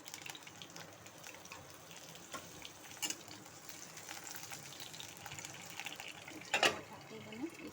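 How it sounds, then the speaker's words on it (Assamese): Capsicum sizzles steadily in hot oil in a pan, a soft, continuous crackle with occasional louder stirring scrapes, heard close and fairly quiet. "মই কেপচিকামখিনি ফ্ৰাই কৰি ল'ম।"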